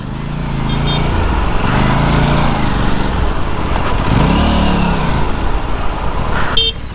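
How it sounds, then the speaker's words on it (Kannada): An Aprilia RS 457 motorcycle roars loudly and close on a test ride, its exhaust note rising and falling through several revving pulls, with a brief horn-like toot near the end. "ಎಕ್ಸಾಸ್ಟ್ ನೋಟ್ ಮಾತ್ರ ಕ್ರೇಜ್ ಆಗಿದೆ"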